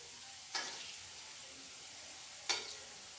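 Urad dal vadas frying in hot oil for a kootu curry give two short, soft bursts of sizzling a couple of seconds apart over a faint, steady background hiss.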